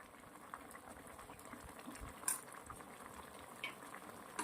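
A potato toast filling simmers in gravy in a pan, a faint, steady bubbling and sizzling with a few soft clinks of a spoon against the pan.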